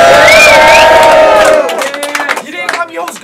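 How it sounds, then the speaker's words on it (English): A rap battle crowd at a King of the Dot event roars and cheers loudly for over a second, then breaks into scattered whoops and shouts with voices calling out over the dying applause. "Hey, GZ Battles, Mastery, make some fucking noise, yeah?"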